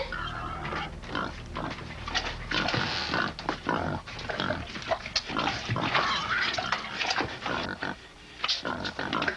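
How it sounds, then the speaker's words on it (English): A pig grunting and snorting in a short film, close and fairly loud, a run of rough irregular grunts and squeals that carries on for about nine seconds. "That's a pig."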